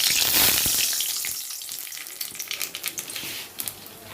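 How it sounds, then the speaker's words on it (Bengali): Nigella seeds hit hot oil for a taro and potato dish, a bright burst of sizzling that fades, then a run of quick crackling pops and spatters close by. "এবার আমি একটু গরম তেলে কালো জিরে দেবো।"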